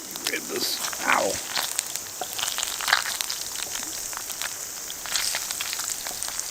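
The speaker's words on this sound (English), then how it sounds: "Oh my god, it's raining." Rain falls steadily on a tent during a camping trip in a heavy storm, a dense hiss of drops with scattered patters throughout, heard alongside brief movement sounds.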